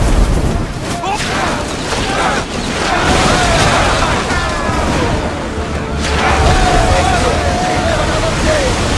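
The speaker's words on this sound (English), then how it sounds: "We need to brace against those fire volleys!" Naval battle in the video game Assassin's Creed Odyssey: loud, dense rumbling fire volleys and booms over rushing water and wind, with shouting crew voices throughout.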